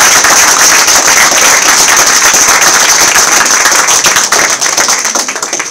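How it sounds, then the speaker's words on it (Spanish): A crowd at a celebration of Salvadorans abroad applauds loudly and continuously, a dense close-up wash of clapping that thins slightly toward the end. "Así que un aplauso para nuestra cónsul."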